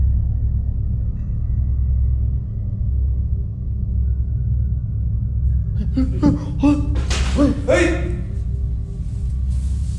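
Several sharp knocks on an office door around the midpoint of the clip, rapping in a quick cluster over a steady low rumble, with no voices.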